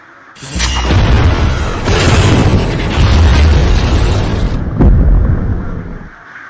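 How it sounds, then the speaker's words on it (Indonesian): A deep, rumbling explosion of the Russian submarine Kursk in a film bursts in and roars for several seconds, then a second blast hits before the sound fades away. "Kapal selam kebanggaan Rusia tersebut pun meledak."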